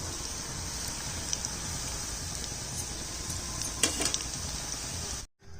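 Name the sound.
potato pakoras frying and sizzling in a pan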